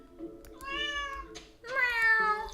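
Cat meowing in the Stardew Valley farming game, two drawn-out harmonic meows close and clear, one after the other with a short pause between.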